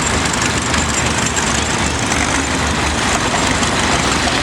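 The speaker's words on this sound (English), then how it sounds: "We got a 1961 Oliver 660 tractor." A 1961 Oliver 660 tractor runs at a steady idle at the HPOCA summer show in Prairie Village, Madison, South Dakota, a constant, loud, low engine drone with no talk.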